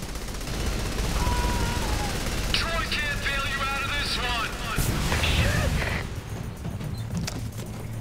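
Sniper gunfire in the video game Saints Row 3 cracks out in scattered broadband bursts amid a busy game mix, with voices talking over much of it.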